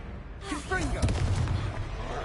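Confringo, a blasting fire spell in Hogwarts Legacy, bursts with a loud booming explosion that rises suddenly and rumbles on for over a second beneath spell effects and a voice.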